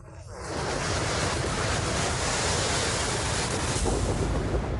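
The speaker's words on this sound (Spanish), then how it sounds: "Consistía en nieve, viento y lluvia." Storm wind buffets the microphone over crashing waves during a storm of snow, wind and rain, a dense, loud, continuous roar that swells in within the first second and stays steady.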